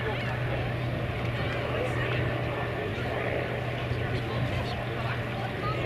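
A Ryan STA, an all-metal 1930s racing-era monoplane, drones steadily with a constant engine and propeller hum at an air show, while a voice talks over it the whole time.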